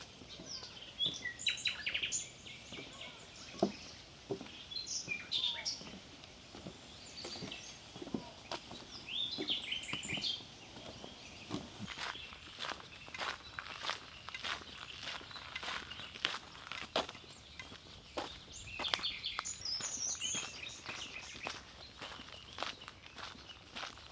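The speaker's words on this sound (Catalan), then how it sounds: "És tot un espectacle auditiu sentir aquests autèntics concerts que fan els ocells." Birds chirp and sing in the open air of the Aiguamolls de l'Empordà wetlands, with scattered calls overlapping, while footsteps crunch steadily along a path close by.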